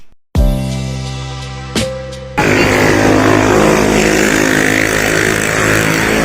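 A loud, steady bike engine roar starts abruptly and holds, with a brief rev partway through, running close by.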